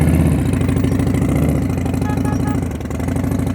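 A motorcycle engine idles steadily at close range through slow-speed riding practice in Florida, a continuous low rumble that dips briefly near the end, with no talking over it.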